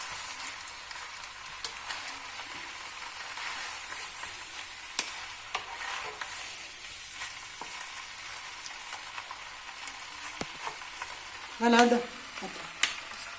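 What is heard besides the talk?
noodles, chicken and vegetables stir-frying in pan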